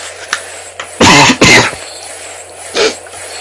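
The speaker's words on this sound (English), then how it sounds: "Had a coughing fit there." A close, loud burst of harsh coughs, two strong ones back to back followed by a smaller cough, with quiet pauses between.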